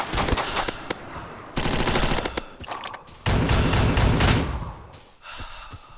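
Rapid bursts of gunfire from a browser shooting game, loud and repeated in several volleys with brief gaps, without talk.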